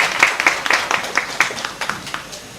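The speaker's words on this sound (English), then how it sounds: "Let's give her a round of applause." Scattered claps at an evening festival launch event, a thin spread of individual hand claps pattering unevenly over a couple of seconds, moderately close.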